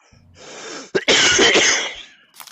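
A single human sneeze, a sharp close burst with a brief inhaled buildup before it, followed by a short breathy tail.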